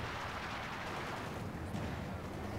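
An artillery barrage in Company of Heroes 2 comes as a dense, continuous rumble of overlapping booms and crackling blasts, loud and sustained throughout with no talk.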